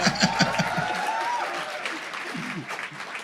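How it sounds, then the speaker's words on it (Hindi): A live studio audience applauds during a comedy review show, a burst of clapping at the start that fades as a voice talks over it, with some chuckling in the room. "एक बार ताली यार"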